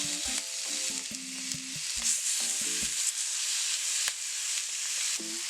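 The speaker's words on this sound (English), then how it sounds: "I have a very hot cast iron skillet, and I'm placing these skin side down" Marinated chicken pieces sear skin side down in a very hot cast iron skillet, giving a steady, loud sizzling hiss that runs unbroken throughout, with a few short tonal sounds near the start.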